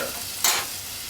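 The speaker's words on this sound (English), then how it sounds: "just let that boil." A pot of salt mackerel run down with coconut milk cooks uncovered on a stove, giving a soft steady bubbling hiss with one brief louder burst partway through.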